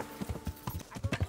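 Horse hooves clip-clop in a quick, uneven gallop rhythm while riding in a video game, close and fairly loud, with a brief whinny-like tone mixed in.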